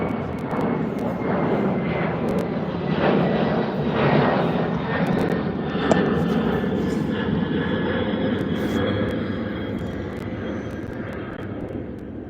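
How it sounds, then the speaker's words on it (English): Loud airplane roaring overhead outdoors, a steady broadband engine drone that swells and fades slightly over about twelve seconds, with no speech over it. "It's a loud ass plane."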